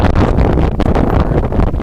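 Gusty wind on a windy day at an amateur baseball game, buffeting the microphone in loud, uneven rushes and thumps over a short stretch.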